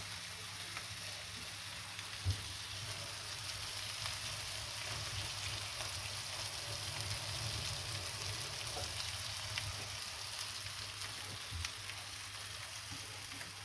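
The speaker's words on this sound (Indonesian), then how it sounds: "Kita tumis sampai harum" Salted fish frying in olive oil in a home kitchen pan, a steady, even sizzle and crackle that runs on alone for over ten seconds, with one or two faint taps.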